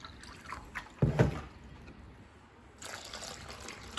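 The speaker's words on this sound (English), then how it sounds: "Now we're going to do 3 cups of cold water." Cold water poured into a bowl of dissolved gelatin for a no-bake jello cheesecake, a short splashing burst followed by a softer trickling fill, close and fairly quiet with no talk.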